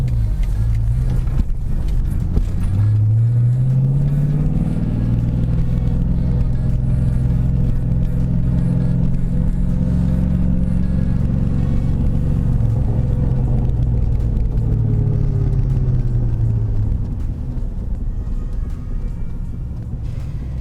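Ford Mustang engine rumbling steadily from inside the car as it pulls away, with rising revs around each gear change, loud and continuous with no talking.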